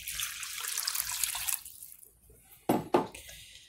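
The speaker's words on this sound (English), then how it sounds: "2 cups of lukewarm water, just warm to your wrist" Lukewarm water poured into a mixing bowl for pizza dough, a close, bright pouring rush for about a second and a half, followed by two short splashy sloshes.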